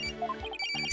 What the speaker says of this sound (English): Where's that phone coming from?